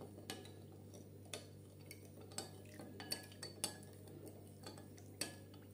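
A spoon clinks and scrapes quietly in a bowl as carrot juice ingredients are mixed, a scattered run of light metallic ticks and taps over a low steady hum, with no one speaking.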